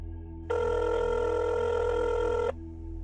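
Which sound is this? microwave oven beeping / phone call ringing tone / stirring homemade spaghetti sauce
phone call ringing tone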